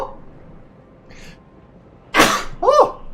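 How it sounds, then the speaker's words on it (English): A man gives one sharp, close sneeze in a quiet room during a Total War: Warhammer 3 gaming session, followed by a brief sniffing exhalation. "I'm gonna sneeze."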